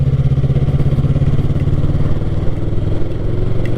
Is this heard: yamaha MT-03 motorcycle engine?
yes